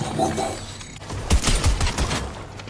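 Shotgun blasts in the video game Fortnite come as a quick burst of several loud booming shots in close succession, following a brief moment of game noise.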